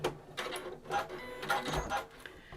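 A home sewing machine makes a few short stitching bursts, forward and back, while back-stitching the layers of a fabric luggage tag, with quiet stops and handling sounds between them.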